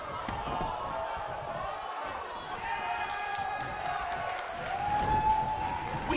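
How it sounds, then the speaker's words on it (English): Crowd cheering at a wrestling event in WWE 2K19, a continuous arena roar of many voices with scattered whoops and thuds, swelling slightly toward the end. "record-setting crowd here for BCW tonight."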